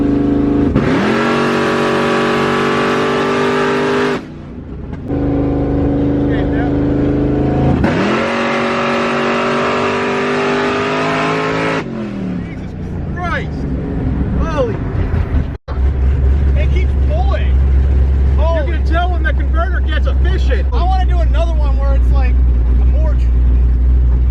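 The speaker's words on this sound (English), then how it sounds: "I want to get a nice pull so I can actually see how it's revving out and shifting" A car engine revs hard through two long acceleration pulls, rising in pitch and then dropping at each gear shift, loud and close from inside the car, followed by steady cruising with people talking over it.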